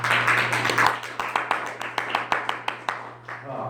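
An audience gives a short burst of clapping that thins into a few scattered claps, close and moderately loud, with a steady low hum underneath.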